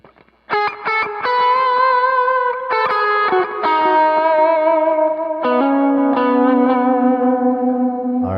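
Electric guitar solo through an amp-less rig with a volume-boost patch, mid-boosted graphic EQ, delay and reverb: sustained singing notes and bends in a slow melodic line, loud and up close with echoing tails, no talk.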